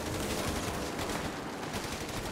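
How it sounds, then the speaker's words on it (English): Gunfire from Company of Heroes 3, a dense, continuous wash of battle noise with rapid shots blending into steady crackle and no clear gaps. "We're taking fire!"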